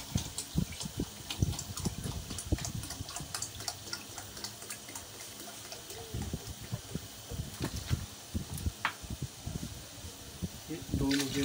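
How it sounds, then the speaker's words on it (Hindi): Water is poured from a mug into a pot of mutton yakhni broth for goat pulao, an uneven stream of splashes and gurgles with scattered clicks and clinks of the vessel throughout. "बाकी मैं इसमें पानी डाल के इसको पूरा करता हूँ"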